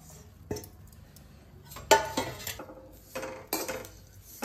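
Dried shrimp (jawla) being roasted in a pan, with scattered clinks and scrapes of a utensil against the pan and occasional sharper knocks, fairly close and quiet between hits, no talking.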